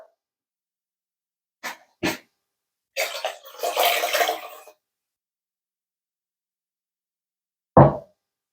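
Warm water pours briefly into a jar for a second or two, between a few scattered knocks and clinks in an otherwise quiet room.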